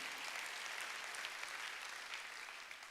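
Worshippers at a Sunday church service in Korea break into steady, continuous applause, a dense wash of many hands clapping at an even level from start to finish.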